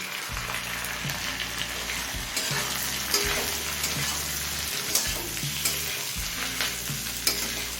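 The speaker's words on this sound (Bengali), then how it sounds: "এবার টমেটো একটু নরম হয়ে আসা পর্যন্ত ভেজে নিচ্ছি" Thinly sliced tomatoes frying in a pan for ghugni, a steady close sizzle with a spatula stirring and scraping at a regular pace, no voices.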